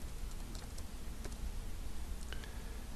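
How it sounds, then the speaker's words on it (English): Quick, light keystrokes tap on a computer keyboard, a few soft clicks at close range over a faint background hum, with no talking. "Let's type in settings."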